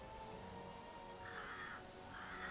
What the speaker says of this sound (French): Oh, les corbeaux, là!